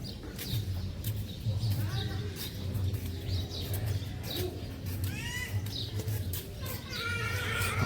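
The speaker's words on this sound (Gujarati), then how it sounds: "શું ચકલીઓની અવાજ" Sparrows chirp faintly inside a temple, giving short high tweets scattered over a low, steady background hum and a murmur of people.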